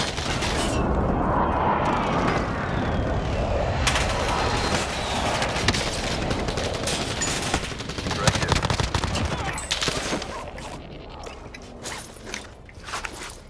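Dense bursts of gunfire and heavy impact blasts from a Call of Duty Warzone match fill the space, rapid crackling fire alternating with booming hits and debris rattle, loud and continuous.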